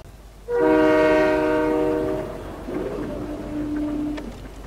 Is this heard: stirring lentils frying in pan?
no